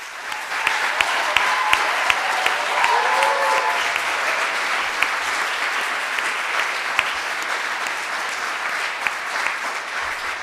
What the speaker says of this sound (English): would like to take a moment to applaud them all.